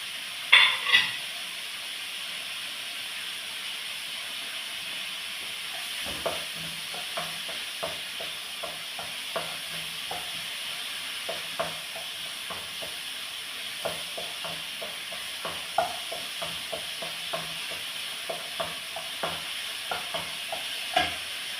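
Onions with chopped tomatoes frying in a pan, a soft continuous sizzle broken by frequent small clicks and scrapes of stirring, with no one talking.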